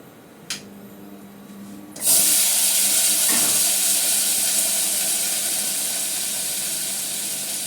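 Five-spice seeds hit hot oil in a pan for a chutney and burst into a loud, sudden sizzle that hisses steadily and slowly fades, preceded by a small click and quiet background hum.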